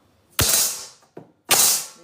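Three sharp knocks from a silicone chocolate mould, filled with Easter chocolate, rapped against a kitchen counter to settle it. The first and third knocks are loud and the middle one lighter.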